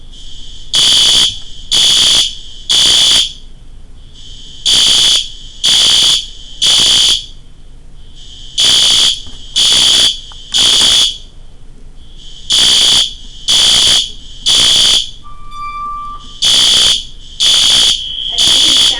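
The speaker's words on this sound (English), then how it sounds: "Attention staff, it is a false alarm." A school fire alarm blares in repeated bursts of three loud, harsh electronic tones separated by short gaps, with a brief higher beep in one gap, sounding close and continuous throughout.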